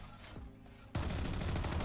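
Ares machine gun from a video game firing rapidly in a continuous, loud burst that starts abruptly partway through and holds steady to the end, after a quieter stretch of game ambience.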